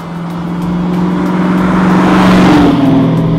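A 1969 Chevy Z28 Camaro with a GM Performance 454 LS7 crate engine, forged internals and a racing mechanical camshaft, revs up loud and close, its deep rumble swelling and climbing in pitch.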